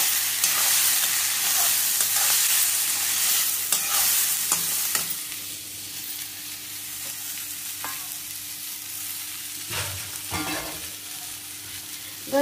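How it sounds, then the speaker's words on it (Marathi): Millets and rice dry roasting in a pot, a steady dry sizzle and rustle under occasional scraping stirs, close up with no voices. "आता छान भाजू द्यायचं."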